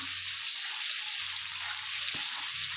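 Salt-boiled potatoes frying in hot oil, a dense, even hiss of sizzling that holds steady and close throughout.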